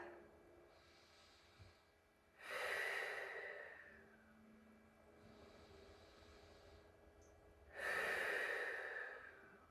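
Slow, deep breaths during a stretch on a Rollga massage ball for low back and sciatica relief: two long, airy exhalations several seconds apart, close but faint in a quiet room.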